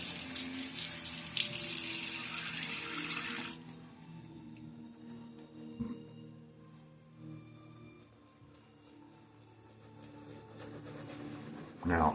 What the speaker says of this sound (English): Refresh the water on my face a little bit.